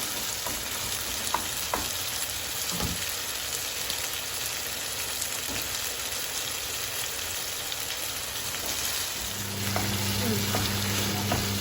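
Chicken sizzles and fries in a pan with ginger garlic paste for korma, a dense, steady crackle with occasional stirring clicks, close up and continuous.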